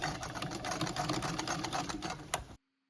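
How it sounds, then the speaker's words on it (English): A straight-stitch sewing machine runs steadily, stitching a shirt sleeve for a recreated 1925 man's shirt. The close, continuous mechanical whirr and rapid needle clatter carry on for over two seconds, then stop abruptly into silence. "Because the machine only straight stitches forwards, the piece is turned around to run the stitches over themselves."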